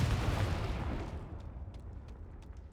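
A Confringo explosive spell from Hogwarts Legacy goes off as a loud, deep booming blast that rumbles and then decays into fading crackle, with no talking.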